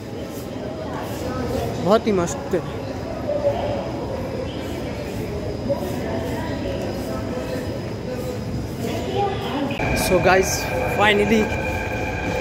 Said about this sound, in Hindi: सो गाइज, ये लाजपत नगर मेट्रो स्टेशन है,